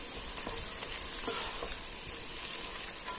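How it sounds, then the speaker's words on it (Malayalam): Sliced onions frying steadily in a hot pan for Kerala-style chicken curry, giving a close, continuous crackling sizzle with faint stirring scrapes throughout and no voices. "സവോളയൊക്കെ ഒരുവിധം നന്നായിട്ട് വഴന്ന് വന്നിട്ടുണ്ട്."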